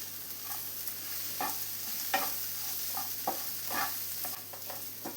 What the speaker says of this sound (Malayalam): ഫ്രൈ ചെയ്ത് വെച്ച വെണ്ടക്കായ കൂടെ ഈ സമയം ചേർത്തിട്ട് എല്ലാം കൂടെ ഒന്ന് മിക്സ് ചെയ്തെടുക്കാം.